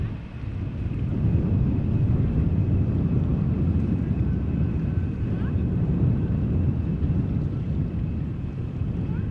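Embraer 175 airliner arriving at Amsterdam Schiphol Airport, a steady broadband jet roar with a faint high whine, moderately distant and sustained throughout, mixed with wind rumble.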